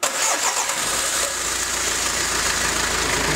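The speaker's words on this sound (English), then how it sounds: "the engine fired up" Car engine cranking and catching, then settling into a steady, loud idle close by with no talk over it.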